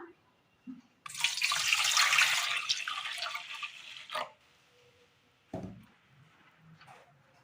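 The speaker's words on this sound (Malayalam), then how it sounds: "പാലൊഴിച്ചു കൊടുക്കാം" Milk pouring steadily into a bowl for a few seconds, a bright splashing stream, followed by soft clinks and a thud of the container.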